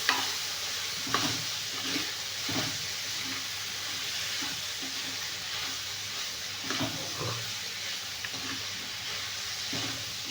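Food being stirred and fried in hot oil, with a steady sizzle and hiss broken by repeated scraping strokes of the spoon, close up, no talking.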